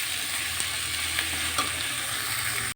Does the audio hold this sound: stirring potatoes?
yes